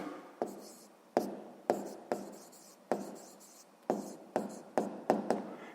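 A pen writes answers on paper during a sixth-grade maths exercise, a series of about ten short tapping strokes and scratches, close and fairly quiet, spaced unevenly across the moment.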